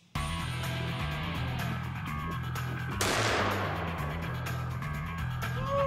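A revolver fires a single sharp, loud shot midway through, cutting through a steady background hum before a brief ringing decay.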